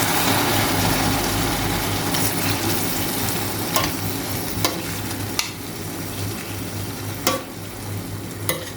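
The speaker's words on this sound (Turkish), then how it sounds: "Şimdi domatesleri üstüne ekleyeceğim." Tomatoes added to onions and peppers frying in a pan, making a steady loud sizzle with scattered scraping taps of a stirring utensil, close and without talk.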